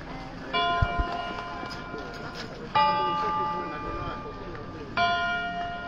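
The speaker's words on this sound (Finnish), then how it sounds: "Nyt rupee kirkonkellotkin soimaan" Church bells ring at a distance outdoors during a Christmas gathering in Korso, with several sustained tolling strikes whose resonant tones linger and overlap, heard under faint background voices and footsteps.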